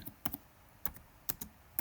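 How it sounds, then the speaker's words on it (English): Fingers tap on a computer keyboard, entering a 1993 Beam Team Shaquille O'Neal card into an online search; a few quick, light keystrokes come in small clusters, close and fairly quiet, with no talking. "So we're going to start typing in 1993 Beam"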